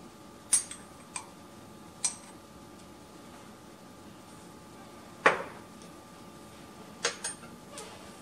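Pumpkin pie spice spooned into a pot on a stove: scattered small metallic clinks and taps of a measuring spoon against the pan, about six light, separate strikes over a quiet kitchen background.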